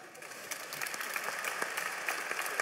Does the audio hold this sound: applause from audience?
yes